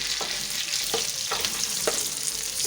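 Food cooking in a pot sizzles steadily while a spoon scrapes through it in a few regular stirring strokes.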